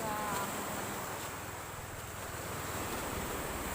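Strong sea waves at a beach make a steady, dense roar of surf, a continuous wash without clear breaks, mixed with light wind.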